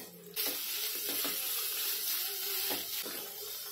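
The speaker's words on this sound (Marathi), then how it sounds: "आता आपण हा कांदा पण छान फ्राय करून घ्यायचा आहे, कच्चा नाही ठेवायचा" Thinly sliced onion frying in a pan for bhuna chicken, a loud continuous sizzle with bursts of stirring scrapes, close and without speech.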